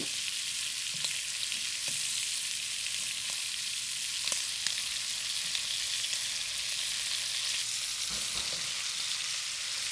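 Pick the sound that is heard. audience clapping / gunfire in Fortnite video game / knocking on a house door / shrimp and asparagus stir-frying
shrimp and asparagus stir-frying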